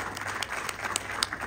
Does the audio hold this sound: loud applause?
yes